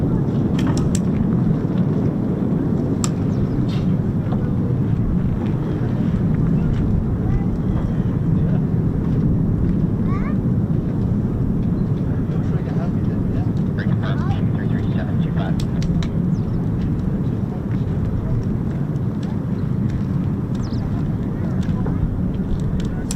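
A US Air Force F-15 or F-35 fighter jet departs RAF Lakenheath, a constant, heavy jet roar that runs unbroken throughout, with faint scattered clicks over it.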